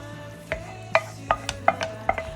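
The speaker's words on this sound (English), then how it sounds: "Now I'm gonna go ahead and add the garlic onto the bigger pot." A spoon scrapes garlic out of a skillet into a larger pot of Vietnamese pork macaroni soup. About six sharp scraping taps come at a steady pace over a quiet kitchen hum.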